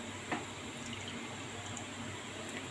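Chicken pieces dipped into water, giving a faint, brief splash followed by a soft, steady watery trickle.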